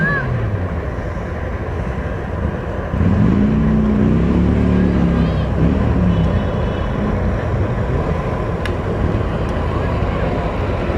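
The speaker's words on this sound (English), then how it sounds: "A little bitty tractor coming here now." A small John Deere tractor rolls past in a Fourth of July parade, its low engine drone rising as it nears, over steady outdoor wind and background noise.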